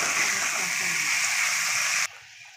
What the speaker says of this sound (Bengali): এবার রেসিপিতে জল দিয়ে দিয়েছে মা, সামান্য পরিমাণ জল দিয়ে দিয়েছে